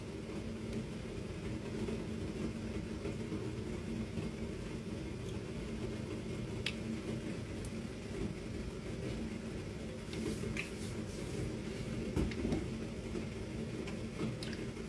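A train starts to move: a steady low rumble with occasional faint clanks and knocks, continuous throughout, with no talking.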